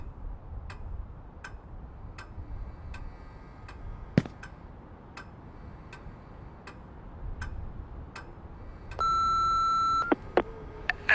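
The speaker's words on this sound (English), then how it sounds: "Maybe they left a voicemail." In the horror game Remothered, a regular ticking clock sounds throughout, then a sustained electronic answering-machine beep rings out clearly near the end, followed by a few sharp clicks.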